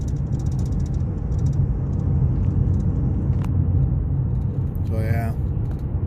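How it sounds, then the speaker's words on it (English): A 2008 Saturn Aura cruises on a highway, heard from inside the cabin as a constant low road rumble and tire roar, with a person talking over it and a brief rattle near the end. "We're even hitting some bumps on this highway"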